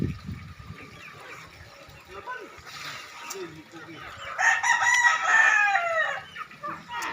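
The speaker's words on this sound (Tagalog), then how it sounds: "Ang laki ng manok." A rooster crows loudly in a drawn-out call, with outdoor background noise and faint chatter around it.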